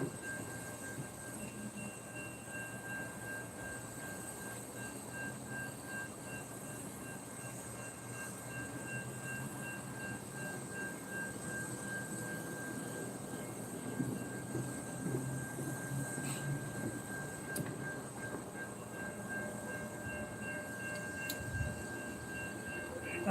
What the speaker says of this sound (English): It sounds like there's another train coming, but I can't be sure.